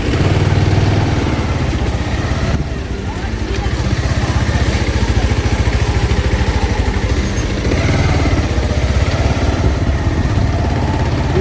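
A small motorbike engine idles steadily on a mountain road on the Yamunotri route in the Himalayas, a continuous close mid-pitched throb running throughout with a slight dip near the three-second mark, with voices heard over it.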